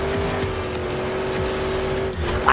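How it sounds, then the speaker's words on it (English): Monster trucks racing at a Monster Jam show: a loud, continuous engine roar with a steady drone, tires squealing briefly near the end. "I never get tired of watching this truck race"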